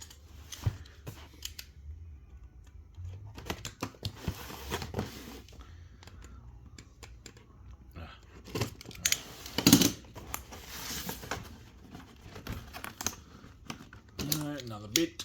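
Scissors snipping packing tape to open the box of a Greenlight 1:18 scale diecast Jeep CJ-7, with close, sharp clicks and cutting sounds, rustling cardboard and someone speaking now and then.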